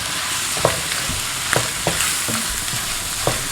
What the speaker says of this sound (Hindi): इस कीमे को हम भूनेंगे इसमें